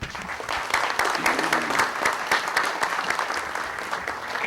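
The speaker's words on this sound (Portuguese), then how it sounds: "Pediria até que a gente mandasse uma salva de palmas para ele" Sustained audience applause fills a general assembly hall, dense steady clapping from many hands that carries on throughout at an even, fairly loud level with no talk over it.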